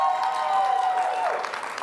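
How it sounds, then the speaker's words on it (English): Audience applause in a room at a startup accelerator demo day, a brief burst of clapping under a faint ringing tone, fairly loud and steady before tapering off. "Give that a hand of applause"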